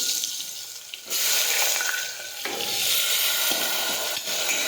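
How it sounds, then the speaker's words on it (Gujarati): Chopped potatoes, mustard seeds, cumin and asafoetida crackle and sizzle loudly in hot oil, with a fresh burst of frying as each ingredient goes into the pan, and no voices. "હવે આપણે તમારા રાઈ અને જીરું નાખી દઈશું હિંગ નાખીશું સમારેલા બટેટા નાખીશું"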